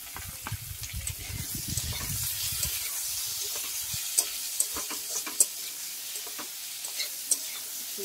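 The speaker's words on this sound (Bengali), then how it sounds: "আমি ওল আর পুঁই ডাঁটা পেঁয়াজ ভাজা ভাজা হয়ে যেতে তুলে দিচ্ছি" Taro, Malabar spinach stems and onion frying in a pan, with a sizzling hiss and clattering stirring strokes early on, then steady frying with a few sharp clicks and pops.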